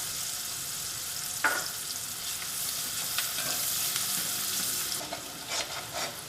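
Sliced onions sizzle steadily in a hot pan while being sautéed for a Kerala brinjal curry, a constant bright frying hiss with a few brief stirring scrapes.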